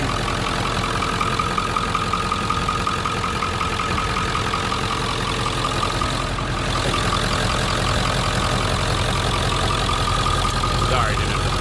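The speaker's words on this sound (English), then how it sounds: "Check out that engine bay as it's running." A 1997 Ford F-350 regular cab 4x4 idles steadily up close with the hood open, a constant low engine rumble that carries through the whole stretch without pause.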